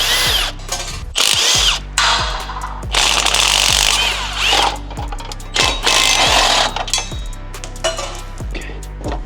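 Power tool blasting 14 mm nuts off Subaru WRX headers, loud repeated bursts of ratcheting impact hammering, each lasting about a second with short pauses between, close up.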